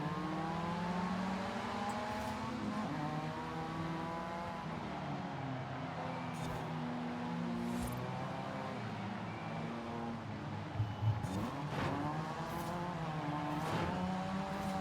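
Mazda RX-7 Spirit R Type A rotary engine racing on a wet road in Forza Horizon 5, a steady loud drone with rising and falling revs through gear changes throughout, plus a brief louder burst near the end.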